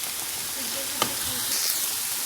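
Minced meat frying in a pan after onions, being pressed and broken up as filling for stuffed peppers; a steady, close hiss of sizzling with one sharp scrape midway and no talking.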